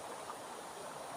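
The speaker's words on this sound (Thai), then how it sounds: "น้ำไหล" A stream flows steadily in a constant broadband rush, with no voices over it.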